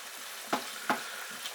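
Ground meat for a cottage pie fries in a pan under a quiet steady sizzle, broken by two quick scraping stirs of a utensil.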